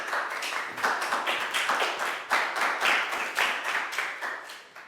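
A primary school class applauding a student, a brief burst of quick, uneven clapping from a small group of children close by, fairly loud and continuous for a few seconds.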